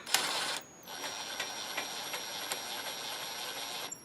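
A hand ratchet runs down cylinder head bolts on a 1988 Jeep XJ engine, a quiet close series of quick clicks after a short burst of louder ratcheting.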